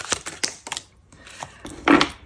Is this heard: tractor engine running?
no